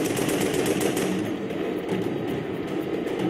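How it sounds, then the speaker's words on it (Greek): Machine gun fire in the video game Project Nimbus: a loud, dense, sustained burst of rapid shots that roars on without a break and with no voices over it. "Αυτή τη στιγμή έχω δύο όπλα. Το ένα είναι το... το όπλο πολυβόλο"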